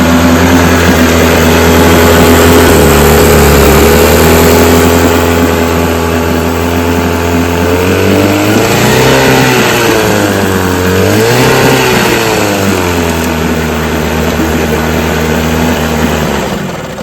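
A vintage Johnson 10 HP outboard motor with a Davis carburetor runs steadily and loudly throughout, its engine drone swelling through two brief revs near the middle before settling back to an even idle.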